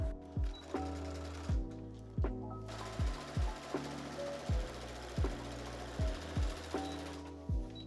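A sewing machine slowly sewing a wedding dress seam down from a pin gives a quiet, regular series of mechanical thumps, about two per second, with no talk.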